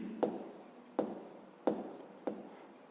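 Four short, crisp strokes of handwriting a math equation for a fifth-grade exercise, evenly spaced about two-thirds of a second apart, each with a quick scratchy tail, close and fairly quiet with no talking.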